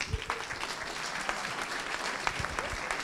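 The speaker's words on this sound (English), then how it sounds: "Let's give him a big cheer, everybody." Wedding guests break into steady, close applause with a few scattered cheers, clapping continuously for a few seconds at a reception.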